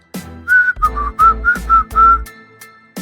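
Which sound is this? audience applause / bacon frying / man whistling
man whistling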